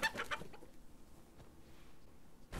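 A chicken clucking in a modded VR video game, a few quick clucks at the start, then quieter scattered sounds, ending with another brief cluck.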